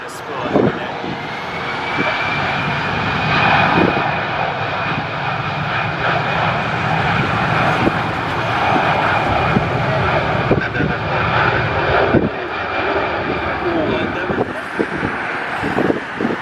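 A heavy aircraft lands in high winds with 45-knot gusts at Toronto Pearson, its jet engines roaring loudly and steadily under buffeting wind noise, while people talk nearby.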